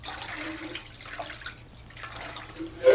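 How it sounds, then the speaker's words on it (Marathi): Potatoes for crispy chips are swished and rinsed in a large bowl of water, giving soft sloshing, splashing and dripping sounds, close and fairly quiet, with a louder splash at the very end. "आपल्याला हे पाण्यामध्ये घालून स्वच्छ धुवून घ्यायचं"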